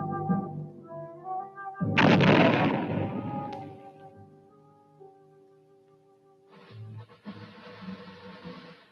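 Demolition blast destroying a vast underground tunnel complex, heard as a loud deep boom that swells and rumbles for about two seconds before fading, with a later burst of rumbling debris over a background of orchestral music.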